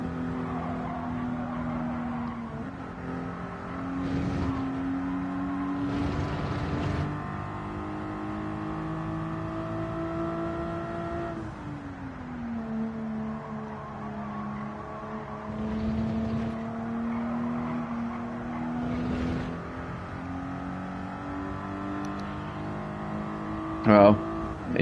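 A 1988 Toyota Supra 3.0GT Turbo A engine driving in Gran Turismo, humming and climbing in pitch through the revs, with repeated drops at gear changes, and a voice speaking faintly over the motor.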